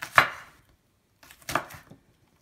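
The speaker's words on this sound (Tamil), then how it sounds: "நல்லா நம்ம வந்து மெலிசாக கட் பண்ணிக்கணும்" A knife slices okra into thin rounds on a board, with two distinct chopping strikes spaced about a second apart, crisp and close with no talking.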